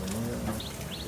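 Pigeons of a special breed at a market coo in short low murmurs, a soft steady calling up close with faint chirps above and no talk over it.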